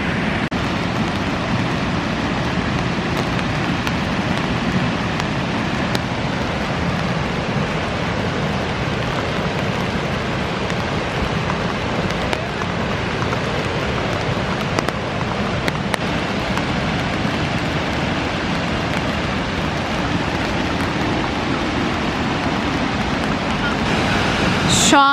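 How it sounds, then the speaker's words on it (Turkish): Steady broadband rushing of Suuçtu Waterfall near Bursa, heard up close as a constant roar of falling water with no breaks. "Zaten şu an şelalenin sesini duyuyorsunuzdur."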